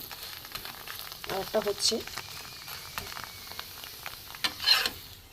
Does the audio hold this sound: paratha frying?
yes